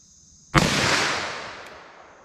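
A single sharp, loud .357 Magnum revolver shot fired double action outdoors at a target 75 yards away, with a sudden crack followed by a long, slowly fading echo and no talking.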